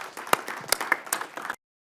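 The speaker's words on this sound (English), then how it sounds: "so give them a round of applause" An audience at a fast pitch competition applauds with a brief burst of scattered clapping that stops abruptly after about a second and a half.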